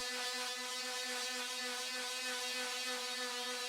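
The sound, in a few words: power sander sanding a reclaimed hardwood board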